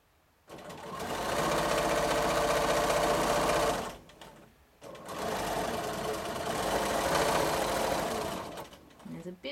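A sewing machine running steadily while free-motion quilting feather patterns, loud and close, in two long sustained bursts separated by a short pause, its motor hum and rapid needle stitching continuous.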